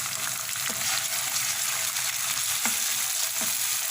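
Finely chopped tomato and garlic-ginger paste frying with onions in a pan for an aloo anda bhujia, giving a steady close sizzle with faint stirring scrapes throughout and no voices.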